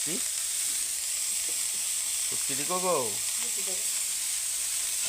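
Onions fry in a pan until reddish for a dried fish and tomato chutney, a loud steady sizzle running throughout while a voice talks briefly over it.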